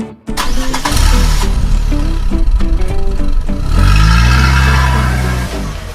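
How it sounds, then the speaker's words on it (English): A car engine cranks and starts with a sharp catch, then settles into a loud, close idle before revving up in a rising surge and easing back down. "It's a car."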